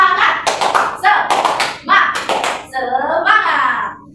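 A fifth-grade class claps out a quick rhythmic pattern, crisp hand claps in bursts, mixed with shouted chanting voices.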